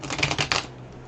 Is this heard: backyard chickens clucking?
no